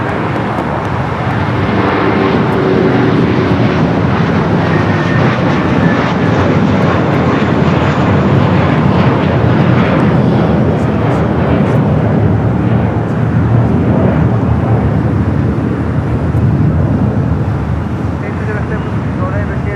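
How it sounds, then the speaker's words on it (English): Airbus A350-900 airliner passing at LAX, a continuous broad engine roar holding steady at close range for the whole stretch and easing slightly at the end, with faint voices beneath. "That was the flight heading to Tokyo Haneda, that A350-900."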